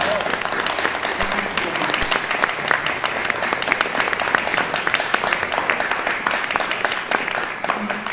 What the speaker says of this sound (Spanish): un aplauso para los pocos que somos